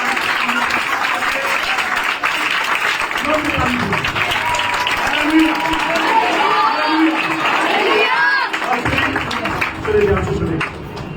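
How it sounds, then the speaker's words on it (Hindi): Loud sustained applause from an audience at a youth ministry anniversary celebration, dense clapping with cheering and crowd chatter mixed in, continuous throughout and tapering slightly at the end. "चलो जोर से ताली बजाएं।"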